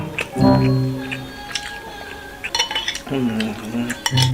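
Duck rice being mixed with soy sauce in a bowl: close spoon scrapes and clinks against the dish in irregular bursts, with a voice talking over it.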